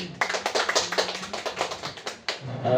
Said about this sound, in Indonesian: Tepuk tangan dulu buat Pak Abrar